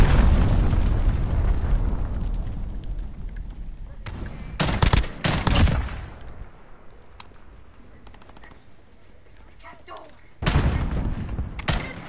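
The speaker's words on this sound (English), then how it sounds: "Enemy cruise missile, take cover." An enemy cruise missile strikes in a multiplayer war video game: a heavy, rumbling explosion fades out and is followed by sharp bursts of close gunfire and further blasts. Faint voices can be heard in between.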